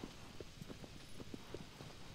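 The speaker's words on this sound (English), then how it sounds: "this is my horse, Aggro." Horse hooves clip-clop in Shadow of the Colossus, a steady walking rhythm of soft, evenly spaced thuds, fairly quiet and alone.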